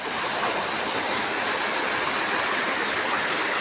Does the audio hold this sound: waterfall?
yes